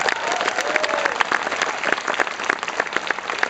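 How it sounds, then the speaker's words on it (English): An audience at a film festival introduction bursts into dense, lively applause, many hands clapping close and loud throughout, with faint crowd murmur underneath. "Let's give a round of applause."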